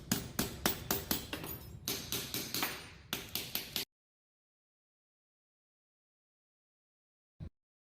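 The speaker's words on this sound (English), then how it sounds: "I'm going to tap it now with a rawhide mallet." A rawhide mallet taps a metal wraparound ring on a bracelet and ring bender, about a dozen sharp knocks in an irregular rhythm, close and clear, then silence broken by one lone tap near the end.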